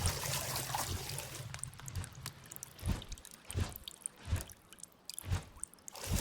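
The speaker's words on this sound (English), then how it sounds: "here's a clip of me swimming in the water." Character swimming through water in the video game Palworld, soft sloshing splashes that settle into a rhythmic series of distinct strokes roughly every second, fairly quiet and with no music or voices.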